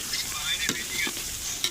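Spiced curry is stirred in a cooking pot, a few scraping strokes of a spoon over a steady bubbling sizzle, close by and fairly clear.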